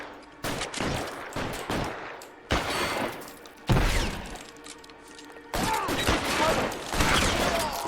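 Repeated gunfire rings out in the detective game L.A. Noire, with dense fusillades and single shots broken by brief pauses, loud and close. Character dialogue is heard in between.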